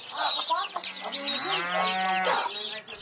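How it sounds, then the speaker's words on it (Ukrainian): Cows left without their owner moo in long, low, drawn-out calls that overlap one another, close by, with faint farmyard clucking in the background. "Корови мечать уже третій день, бо залишилися без господаря"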